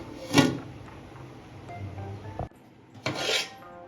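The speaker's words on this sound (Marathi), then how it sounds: "आता तांदूळ ऍड केल्याच्या नंतर एकदा पुन्हा हलवून घ्यायचं व्यवस्थित" A spoon scrapes and rasps through masale bhat rice in a pot as it is stirred, with two louder scraping strokes at the start and end and quieter rubbing between, close and without talk.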